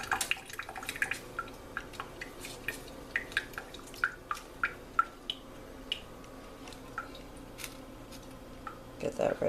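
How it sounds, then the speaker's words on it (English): A wet soldering sponge is squeezed out by hand over a sink, giving a quiet series of separate drips and small splashes falling at uneven intervals. "And I always squeeze out as much water as possible."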